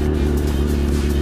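A BMW S1000RR superbike engine runs close and loud, a steady, even drone with a strong low rumble that holds without a break.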